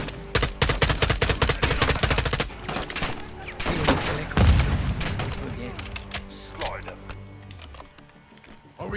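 Heavy gunfire in a Modern Warfare II campaign firefight: dense bursts of automatic fire and loud booms at close range, then thinning shots, with shouting voices over the shooting.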